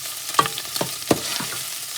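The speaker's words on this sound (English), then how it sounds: "Then I'm gonna throw my cabbage. Alright, so I'm gonna fry for 3 minutes." Cabbage in a frying pan gives a short burst of sizzling with a few distinct clattering stir or scrape hits, close and moderately loud.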